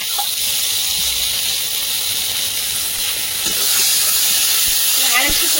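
Cashew and poppy seed paste hitting a frying pan of ginger, cumin and green chilli for a rooster curry, giving a loud, steady hiss and sizzle throughout that swells slightly near the end.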